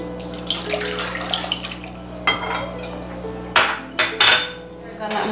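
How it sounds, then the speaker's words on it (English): An egg beaten in a bowl while cooking pancakes with kids, irregular clinking and scraping of utensil against the bowl with a few louder knocks, close by, over a low steady background hum. "Can you beat this egg?"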